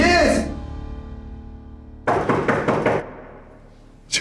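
Knocking on a door in a Turkish drama scene, a quick burst of about four firm raps after a voice, close and loud.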